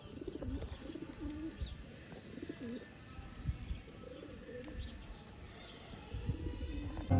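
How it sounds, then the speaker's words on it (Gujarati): Pigeons and their chicks coo close by, a steady run of soft, throaty coos with light chirps and occasional stirring, fairly quiet and with no voices. "બાકી આ આપણા કબૂતર છે"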